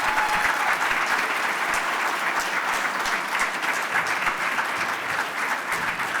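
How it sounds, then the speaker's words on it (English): Audience at an annual awards ceremony applauds with sustained, dense clapping that holds steady and loud throughout, with no voices over it. "Let's give a great round of applause."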